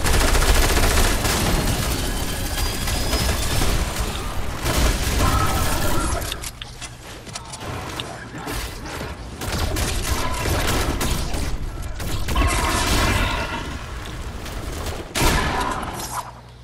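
A minigun in Fortnite fires long, dense sustained bursts at close range, loud and rattling, easing briefly in the middle before resuming.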